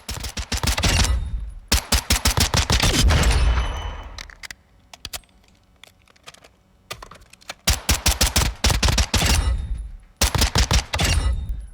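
Rapid automatic gunfire from an ST 2011 handgun in Call of Duty Modern Warfare II, loud hip-fire bursts in quick trains separated by short pauses and a reload lull.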